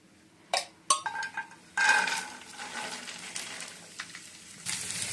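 Ivy gourd fried in oil in a pan after okra has been fried: a few sharp clinks of utensils against the pan at the start, then a soft, uneven sizzle with light stirring, fairly quiet and close.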